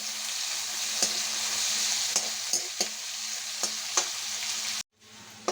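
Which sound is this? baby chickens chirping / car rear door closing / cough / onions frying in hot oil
onions frying in hot oil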